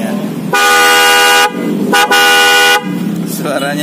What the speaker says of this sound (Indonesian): Untuk klaksonnya pakai yang apa, Mas? Tipe ya? Dalton. Denso Dalton.